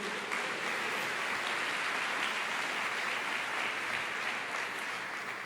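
Steady, dense applause from a large church congregation, filling the whole stretch at an even level with no pauses.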